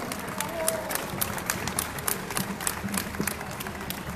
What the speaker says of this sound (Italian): Un applauso agli amici di Cantù.